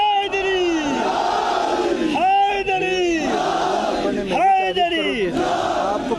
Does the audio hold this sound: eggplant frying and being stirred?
no